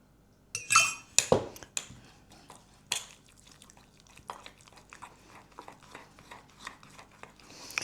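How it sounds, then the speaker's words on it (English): Norwegian school bread filling is mixed in a bowl, with clinks of a utensil against the bowl early on, then softer wet stirring and occasional taps, fairly quiet and with no talking. "We're gonna mix this up until it's nice and smooth."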